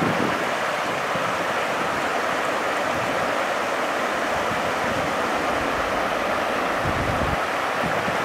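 Rushing water of small river rapids on Terrapin Creek as kayakers paddle down, a steady broadband roar with wind buffeting the microphone throughout, no talk.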